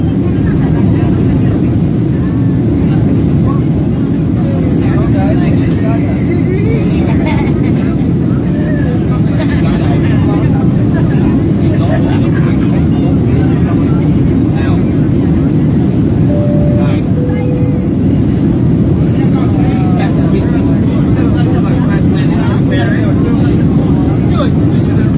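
Loud, steady low roar inside a passenger airplane cabin during flight, a constant engine drone filling the entire stretch without letup.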